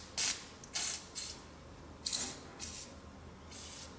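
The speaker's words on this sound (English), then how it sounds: "take some penetrating oil, spray it on the bolts" Penetrating oil sprayed from an aerosol can onto rusty bolts on a Honda Fourtrax 300 ATV, six short hissing bursts with brief gaps between them, close and clear with no talk.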